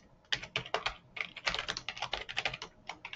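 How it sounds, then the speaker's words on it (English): Fingers tap out text on a computer keyboard in quick bursts of close, crisp keystrokes with brief pauses between runs, heard alone without any voice. "so I'm gonna just type in before launch"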